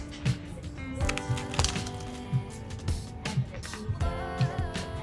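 Fresh cannoli crunching with repeated crisp cracks and crackles in an uneven rhythm, close, over a busy background of faint talk.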